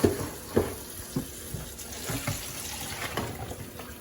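Water pours and splashes into a kitchen sink as cooked pasta is drained, a steady running gush with a few sharper splashes, fairly close.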